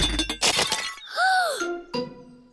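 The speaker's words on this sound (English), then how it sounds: "Mr. Bull has smashed the teapot to pieces." China teapot smashing to pieces in a cartoon: a crash of breaking crockery with clinking shards, followed by a bending, wobbling tone and a final clink, all fairly loud and close.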